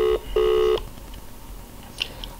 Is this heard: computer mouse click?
no